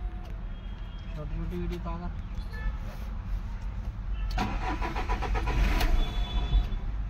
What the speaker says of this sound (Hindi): अब हम इसको स्टार्ट करते हैं गाड़ी को।